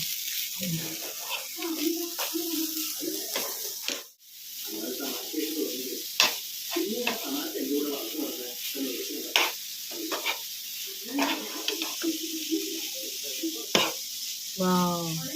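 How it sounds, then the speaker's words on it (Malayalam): Powdered jaggery is stirred in a hot pan with a spoon, giving a continuous scraping, sizzling rustle broken by occasional louder clanks, with a voice talking through much of it. "നന്നായിട്ട് ഇളക്കി കൊടുക്കണം"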